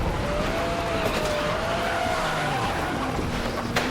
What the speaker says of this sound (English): The police unit rammed the suspect's car, and it's flipped upside down.